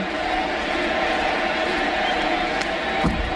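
A baseball crowd at a Cardinals–Cubs game yells for Sammy Sosa as he comes to bat, giving a dense, steady stadium roar with a brief louder swell near the end.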